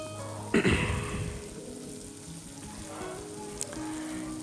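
Onions sautéing in a pan for a Tamil ridge gourd thokku, a soft frying sizzle running steadily with a louder stirring clatter near the start and a brief sharp tick later.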